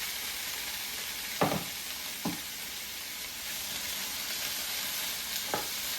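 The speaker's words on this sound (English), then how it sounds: "So I'm just going to put my potatoes in. As you know, I boiled them a little bit. So I'm just going to saute them." Boiled potatoes being sautéed with onions in a pan give a steady, soft sizzle that runs throughout, with a few brief stirring scrapes.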